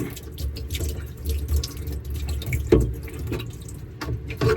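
Water runs through a garden hose hookup being tested for leaks, a close, uneven splashing and dripping with irregular gurgles and a sharper splash partway through.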